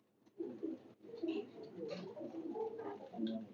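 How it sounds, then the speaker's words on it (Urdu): A golden Teddy cross racing pigeon coos softly in low, rolling bursts at close range, faint overall, with a few light rustles in the background. "ٹیڈی کراس میں کبوتر ہے."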